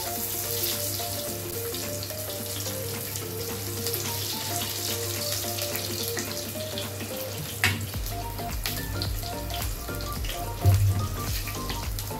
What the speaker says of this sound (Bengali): লম্বা লম্বা করে দুটো বেগুন দিলাম, ভেজে নেব।